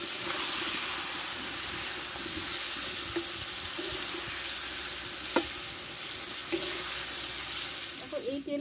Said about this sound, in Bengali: কুমড়োটা ভালোভাবে আমি কষে নিয়েছি। এবার তেল থেকে আমি কুমড়োটাকে তুলে নেব।